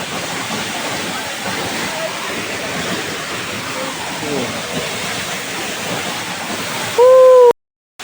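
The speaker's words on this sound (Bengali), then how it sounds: "একদম ডাইরেক্ট জন্না থেকে পড়তেছে পানি" Sahasradhara waterfall at Sitakunda pours in a steady, loud broadband roar that fills the whole stretch, with a brief tonal squeal and a cut near the end.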